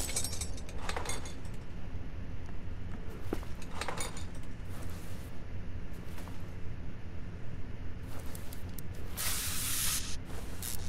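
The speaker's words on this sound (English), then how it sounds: "Of course, gotta spray that too." An aerosol can hisses in several short spurts over a steady mechanical background hum, spraying penetrating oil on a stuck outer U-bolt on a Ford F-350 rear shock in the Car Mechanic Simulator 2021 video game.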